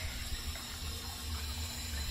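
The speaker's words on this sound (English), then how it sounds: "So let's scoop this guy out." Aquarium water sloshes and trickles continuously as a fish is scooped out with a net, a steady close wet splashing with no speech.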